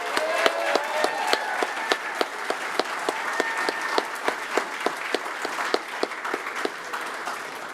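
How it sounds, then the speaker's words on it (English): A crowd applauds steadily at a fire rescue graduation ceremony for class 2504, with sharp individual claps standing out against the dense wash of clapping throughout. "Let's give one final round of applause for class 2504"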